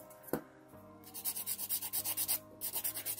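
A diamond nail file drawn back and forth across a fingernail during a white and gold nail art session, giving about a dozen quick, even rasping strokes in two bursts with a short pause between, close and fairly quiet.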